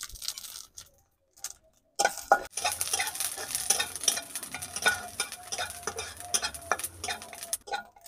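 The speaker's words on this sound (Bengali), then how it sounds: "জায়ফল, জয়িত্রী, বড় এলাচ, দারচিনি, সমস্ত মশলাগুলোকে এর সাথে ভেজে নেব" Whole spices like nutmeg, mace, black cardamom and cinnamon frying with raisins and cashews in a pan, a steady close sizzle with stirring scrapes after a near-silent start.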